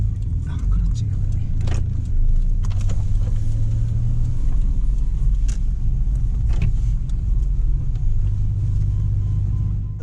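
Nissan GT-R driving among supercars on a Tokyo street, a steady deep engine rumble with faint clicks and passing noises, under ongoing conversation.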